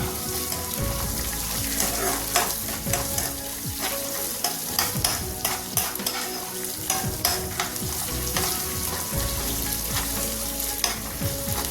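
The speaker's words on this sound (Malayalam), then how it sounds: "നല്ലതുപോലെ ഒന്ന് വഴറ്റിയെടുക്കാം" Small onions (shallots) sauté in a pan for tomato chutney, a steady close sizzle broken by repeated sharp scrapes and clacks as a spoon stirs them.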